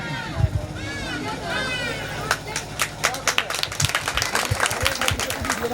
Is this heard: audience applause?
yes